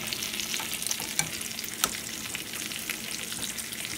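Mexican duro wagon wheel chips frying in oil, a steady dense crackle of bubbling fat with a few sharper pops, close and continuous with no talking.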